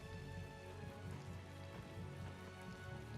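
Steady rain falls in Tales of Vesperia, a continuous even patter on surfaces beneath a sustained tonal music bed, with no voices heard.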